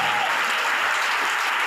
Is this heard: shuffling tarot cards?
no